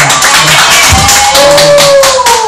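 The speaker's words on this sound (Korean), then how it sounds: "하나님께 영광의 박수 올립시다" A church congregation applauds loudly with cheering voices rising through the steady clapping of many hands.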